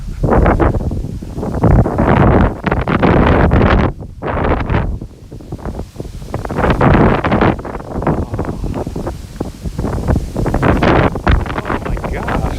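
Strong wind gusts in Tokyo batter the microphone with heavy, rumbling buffeting that surges and eases in waves, over the rustle of branches.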